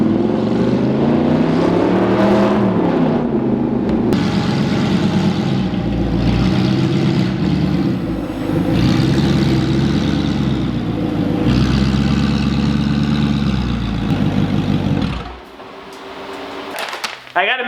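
A loud, raw straight-piped Audi R8 engine rumbles at idle indoors with a deep, throaty drone, close by, with brief blips and a drop near the end.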